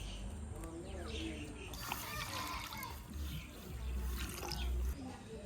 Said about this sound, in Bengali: কড়াইটা দিব পানি